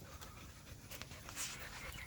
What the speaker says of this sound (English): the dogs run free around here, so they're part of the family